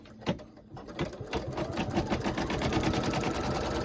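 A sewing machine runs a line of placement stitching for a daffodil coaster, its needle hammering in a fast, steady, close-up rhythm that starts with a few separate strokes and settles into continuous running.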